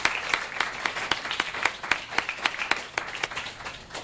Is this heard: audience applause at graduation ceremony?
yes